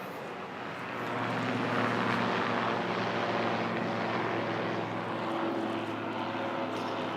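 A helicopter flies overhead, its rotor and engine rising from faint to a loud, steady droning roar that lingers before fading slightly.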